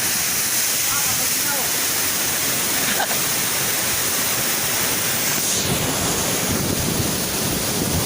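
Salvosa Falls in Pantukan, Davao de Oro, pours as a loud, dense, unbroken roar of water close by, with some wind buffeting the microphone and faint voices underneath.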